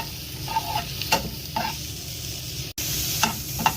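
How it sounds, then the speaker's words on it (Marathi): Onion fries in a pan while being stirred for black pepper chicken: a close, continuous sizzle with several rhythmic spatula scrapes and a brief cut near the end, with no talking. "कांद्याला परतत राहायचं जोपर्यंत तो चांगला भाजत नाही"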